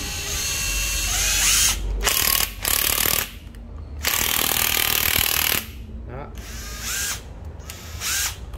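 A Hitachi DMR cordless rotary hammer drill hammers in loud, close bursts of several seconds separated by short pauses, with someone speaking one brief word.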